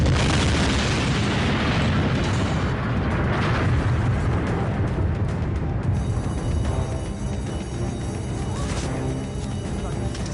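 A car bomb explodes by government buildings in Oslo: a loud, sustained roaring blast rumbles throughout, dense and chaotic, with crackling debris-like texture and no clear voices.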